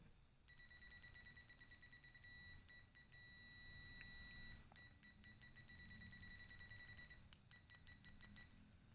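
A Sanwa PM300 multimeter on its continuity test emits a series of short, bright electronic beeps, some rapid and stuttering and others slightly longer, over a low background rumble as the probes make and break contact.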